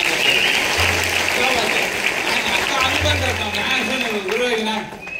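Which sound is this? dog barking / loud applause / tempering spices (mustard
loud applause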